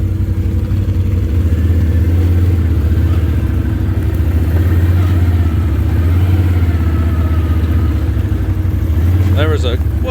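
A Can-Am Outlander ATV engine runs loud and steady while riding, with a constant low drone and slight rises in revs, and someone talks over it.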